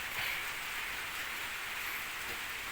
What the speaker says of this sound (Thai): มาแล้วพายุ